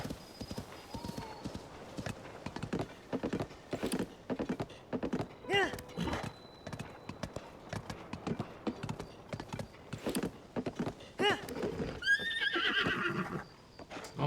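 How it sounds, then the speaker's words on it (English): Wild horses in Zelda: Tears of the Kingdom, with a steady patter of hooves clip-clopping nearby and several whinnying neighs, the loudest near the end, under intermittent talking. "There's a few wild horses over there."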